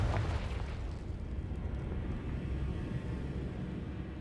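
A Confringo explosive spell goes off in the Hogwarts Legacy video game, a sharp blast at the start that spreads into a long, loud, low rumble and roar lasting several seconds, with no talk.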